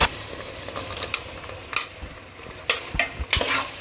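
Soybeans tossed into a frying soybean and mushroom chilli mixture and stirred, with a steady sizzle under repeated scraping and clanking strokes of a spoon against the pan, close and fairly loud, no talking.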